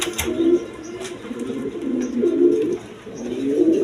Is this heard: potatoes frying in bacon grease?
no